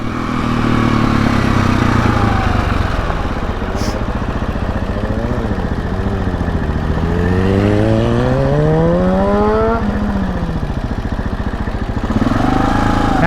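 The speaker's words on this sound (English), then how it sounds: "It is a Kawasaki 636 with an idler screw." Loud, close Kawasaki 636 motorcycle engine revving repeatedly, its pitch sweeping up and down in several rising and falling pulls before dropping and climbing again near the end, with no talk.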